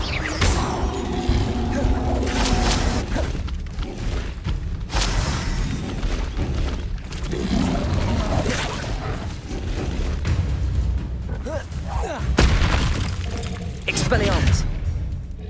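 Magic spells from Hogwarts Legacy land one after another with booming, thudding impacts over steady game noise, while a voice keeps calling out spell names.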